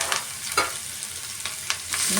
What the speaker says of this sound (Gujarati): હવે આપણે સંભારાનો વઘાર કરી લઈશું